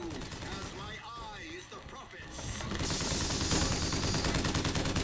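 Enemy gunfire in the video game BioShock Infinite: a loud, sustained rattle of rapid shots that takes over after a stretch of speech and mechanical clanks, continuing steady and dense to the end.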